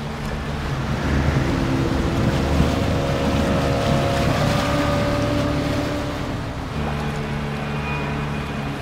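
A motorboat engine in Call of Duty: Modern Warfare II drones steadily at close range, a low rumbling hum with a faint whine rising near the end, no voices.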